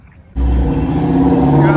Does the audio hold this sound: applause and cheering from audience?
no